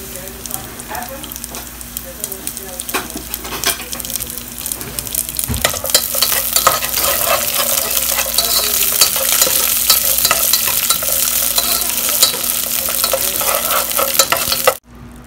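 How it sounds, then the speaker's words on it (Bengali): Pistachios, almonds and raisins fry in a pan for a sweet rice dish, a loud close sizzle under constant stirring and scraping that builds and holds before stopping abruptly. "সাথে দিচ্ছি একটু করে পেস্তা আর বড় বাদামগুলো আর কিশমিশগুলো একটু ভেজে নিব"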